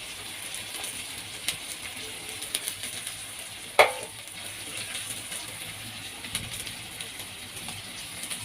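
Crushed garlic and garlic powder sizzling in a pan with mushrooms, a soft even hiss with one sharp clink of a utensil partway through, moderately quiet and close, with no talking.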